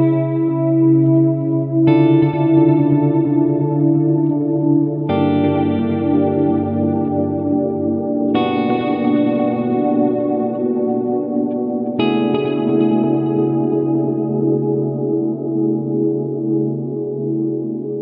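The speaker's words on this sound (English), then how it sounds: "listen to kind of a dark wash ambient delay here" A Strymon DIG dual digital delay pedal set to a dark, washy ambient delay with the repeats turned up: sustained guitar chords ring out in long blurred trails, with a new chord struck every few seconds and no voices.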